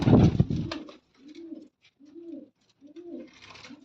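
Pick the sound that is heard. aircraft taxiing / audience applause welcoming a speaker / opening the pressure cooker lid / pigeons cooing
pigeons cooing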